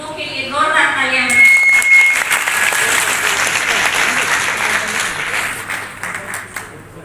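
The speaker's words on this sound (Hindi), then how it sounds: "हमारे समाज के बुजुर्गों के लिए जोरदार तालियां" Loud applause for community elders at an SC khap mahapanchayat gathering in Karnal, a crowd clapping hard and steadily after a brief voice at the start, slowly tapering off.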